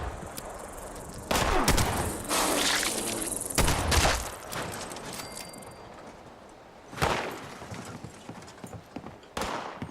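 A big gun fires in the video game Fallout 76, with loud booming bursts and crackling blasts that come in waves and then fade.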